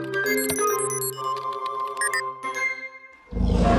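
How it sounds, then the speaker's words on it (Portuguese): A loud, rough, roar-like horn blast from a cartoon vehicle in a Carnival-day children's garage show bursts in near the end, after a bright musical jingle. "E esse parece um rugido de dinossauro."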